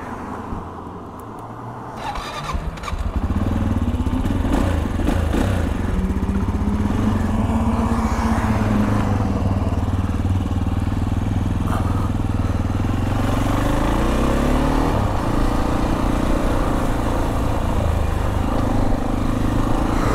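Engine of a new Italian-built motorcycle from the old Husqvarna factory, droning steadily while riding, with rising and falling pitch as the throttle changes, loud and close with wind rush throughout.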